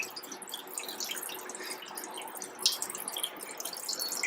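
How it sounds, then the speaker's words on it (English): Water trickles slowly from a mug into a cupped hand held inside an aquarium, a soft, continuous pattering and dribbling with a few brighter drips, quiet and close. "put your hand in and let the water slowly fall into your hand"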